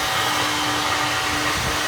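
A flow bench pulls air through a CNC-ported Cummins 12V cylinder head, producing a steady, loud, broadband rushing whoosh with a faint constant hum beneath it and no voices.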